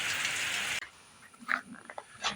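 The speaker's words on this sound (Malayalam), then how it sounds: "മഴ ഒന്ന് കുറഞ്ഞ് നിൽക്കുന്നുണ്ട്, മഴ ചാറുണ്ട്" A steady hiss of light rain fills the first moment, then cuts to quieter surroundings with a few scattered soft knocks and drips.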